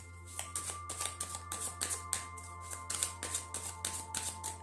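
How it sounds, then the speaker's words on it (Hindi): Tarot cards being picked from a deck, with soft papery flicks and shuffling bursts repeating through the clip over a steady low hum, close and fairly quiet, no talking. "अभी मैं कार्ड्स पिक कर रही हूँ"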